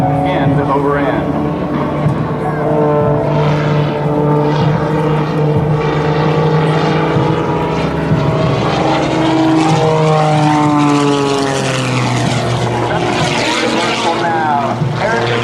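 Aerobatic biplane with a large three-bladed composite propeller flying a display at an air show, its loud, steady propeller drone shifting in pitch as it manoeuvres, with a voice talking over it throughout.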